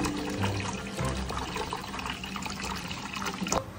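Tap water runs steadily into a cooking pot being filled to boil eggs in a home kitchen, a continuous splashing gush without speech.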